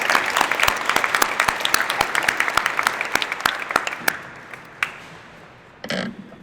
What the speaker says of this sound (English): Can we give another round of applause for those who are represented